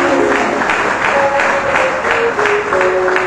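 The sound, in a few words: congregation applause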